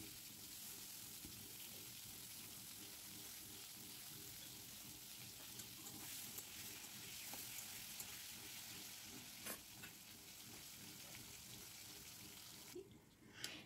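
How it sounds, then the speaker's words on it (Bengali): Long potato strips, cut lengthwise and rubbed with salt and turmeric, fry in hot oil with a steady broadband sizzle and crackle that never lets up, plus a few faint clinks near the end. "এখানে আমি আলুটা লম্বা লম্বা করে কেটে নিয়েছি, সেটাই ভাজতে দিয়ে দিলাম।"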